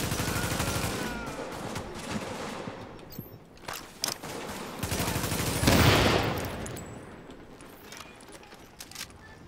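Gunfire in the video game Tom Clancy's The Division, a dense run of shots and bursts with a louder surge midway, heard continuously over game ambience with no talking.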